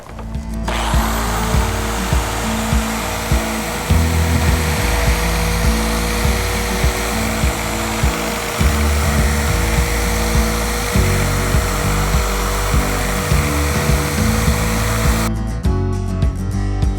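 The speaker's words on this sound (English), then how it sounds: "As I was sanding along, it seemed like it was a lot smoother for me to be able to just glide the drill" A drill fitted with a sanding disc polishing a wet marble countertop, a loud continuous whirring grind that pulses slightly as the disc glides back and forth, steady for the whole stretch with no talk.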